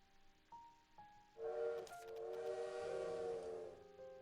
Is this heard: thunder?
no